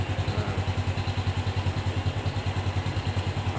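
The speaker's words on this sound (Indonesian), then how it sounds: "Jadi ini misalkan saya langsung electric starter boleh" A Honda Revo motorcycle engine runs at a steady idle, with a close, even chugging pulse throughout and no other sounds.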